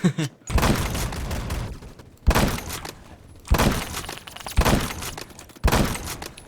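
Shots from an old Soviet rifle in the video game Roblox Phantom Forces, four loud, sharp cracks spaced about a second or two apart, each followed by a short decaying tail.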